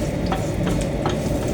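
Tempering spices (talimpu) sizzle and crackle in hot oil, close and continuous, with light stirring scrapes over the steady frying hiss and no speech.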